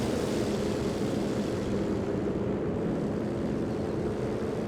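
Loiter planes fly overhead in a video game: a steady, loud propeller-engine drone that fills the whole stretch without a break and with no voices.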